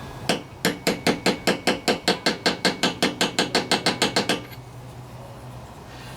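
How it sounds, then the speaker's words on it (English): A steady run of about twenty quick, even metallic hammer taps seating an oil seal on a Tecumseh lawnmower engine, close and crisp, stopping abruptly and leaving a low hum. "So I'm just going to tap all the way around and make sure we're seated all the way around."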